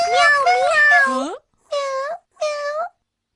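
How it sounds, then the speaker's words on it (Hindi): A cartoon cat gives three meows: one long, wavering call followed by two shorter ones, loud and close, with brief silences between. "ये वही बिल्ली है जिसको शिजुका ने बदलते वक्त पकड़ा हुआ था"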